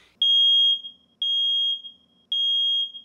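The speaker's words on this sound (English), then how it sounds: "the smoke detector on the wall was still ringing" A smoke alarm blares in three loud, shrill, evenly spaced beeps, each about half a second long, with brief silence between.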